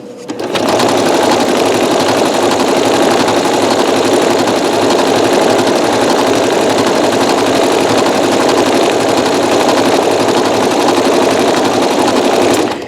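Janome MC9900 sewing machine stitching a third row on a pillow top with Sulky Sliver metallic thread, a loud, rapid and continuous mechanical chatter that runs unbroken for the whole stretch.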